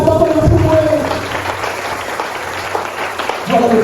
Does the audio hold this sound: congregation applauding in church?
yes